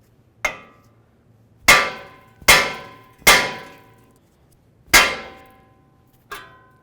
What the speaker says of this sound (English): we're going to take our hammer, we're going to give this a couple loving bonks